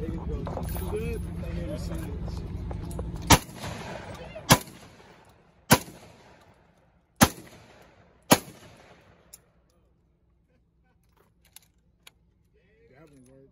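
Shotgun blasts at an outdoor shooting range, fired with a drum magazine: five loud, sharp reports about a second apart, each with a ringing tail. Voices and background rumble precede them, and faint clicks of handling follow.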